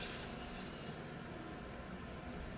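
Thick 2-to-1 sugar syrup pours steadily into a pot during orgeat preparation, giving a continuous soft liquid stream that is close and moderately quiet, with no voices over it.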